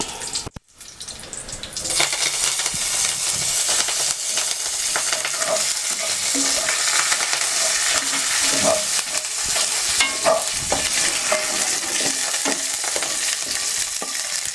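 Curry leaves crackling in hot oil for a brinjal curd chutney, a loud continuous sizzle that starts abruptly and carries on steadily with occasional spatula stirs.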